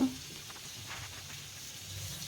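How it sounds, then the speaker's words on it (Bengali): Tomato frying in mustard oil with cumin seeds in a wok gives off a faint, steady sizzle and hiss, soft and continuous with light crackles. "টমেটোটাকে হালকা করে ভেজে নিলাম"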